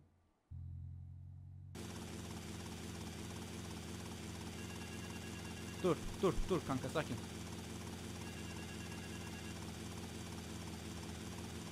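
A helicopter in GTA Vice City drones steadily with a continuous rotor and engine hum, while someone talks over it in short bursts partway through.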